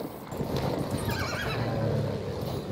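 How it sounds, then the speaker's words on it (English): A horse in the Battlefield 1 video game whinnies over a busy, steady wash of battle noise, with hooves clip-clopping underneath throughout. "I got a horse with a sword"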